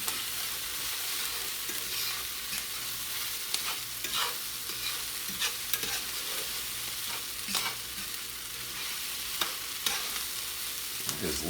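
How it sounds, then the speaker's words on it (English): Pork and kale get stirred in a cast iron pan, with a spatula scraping and clacking at irregular intervals over a steady, faint sizzle, close and without talking. "Let's stir the crap out of this"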